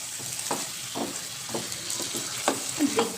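Mango chicken with honey being stirred in a frying pan: a steady run of scraping spoon strokes about every half second over a soft, constant sizzle, close and fairly loud.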